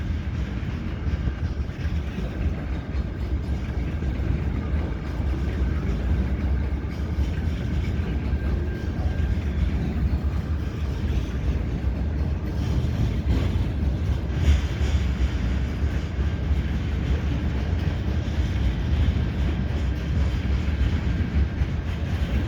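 A long CN freight train of hopper cars crosses the Lachine Canal Bridge in St Henri in winter, giving off a continuous heavy low rumble with steady wheel rattle that neither builds nor fades.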